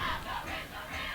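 Woodstock fans at a high school football game cheer and yell from the sideline, a dense roar of crowd voices that swells and dips across a brief moment.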